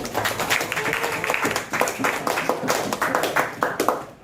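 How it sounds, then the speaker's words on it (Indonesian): Classmates clap for a fellow student during a lesson in a school classroom, a short burst of uneven, close hand claps with a voice briefly talking underneath. "Oke, tepuk tangan buat temennya."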